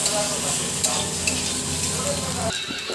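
Vegetables fry in a pan with turmeric added, giving a loud continuous sizzle with stirring scrapes and small clicks, and the sound thins toward the end.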